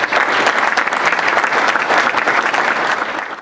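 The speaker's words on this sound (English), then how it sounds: "so let's give a round of applause, Rusty Brown." An awards-ceremony audience claps steadily for a golf award winner, a dense, loud wash of applause from a crowd that holds level throughout with no voices on top.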